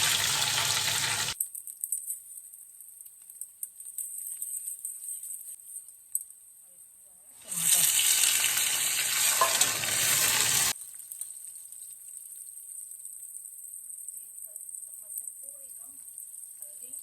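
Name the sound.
green chillies frying in oil for tehri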